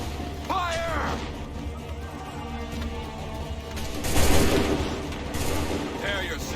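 Musket volleys fired on command in Assassin's Creed 3 crackle and boom amid battlefield noise, with a louder ragged volley near the middle and another near the end, while shouting voices sound faintly beneath.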